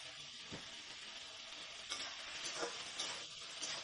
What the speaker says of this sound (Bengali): চিনি দেওয়ার পর আমি একটু ভালো করে কষিয়ে নিচ্ছি।